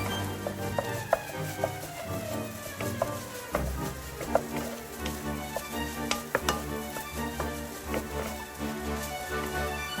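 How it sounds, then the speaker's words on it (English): Rice and crab sticks stir-fried in a pan sizzle steadily, with a spatula scraping and tapping against the metal at irregular intervals, close and alone. "stir fry thoroughly until everything is well combined and the flavors are mixed perfectly with the rice"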